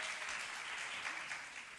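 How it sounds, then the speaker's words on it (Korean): A church congregation at a Korean service gives brief, steady applause, a close wash of many hands clapping together. "여러분 박수 한번 쳐줄까요?"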